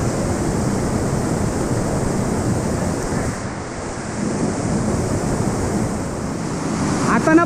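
A waterfall flows strongly in a rain-swollen Konkan stream, making a loud, continuous roar of rushing water roughened by wind buffeting the microphone.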